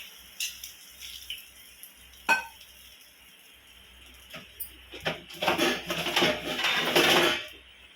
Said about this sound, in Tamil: அதுக்கு 1 டம்ளர் தண்ணி ஊற்றிடுவோம்.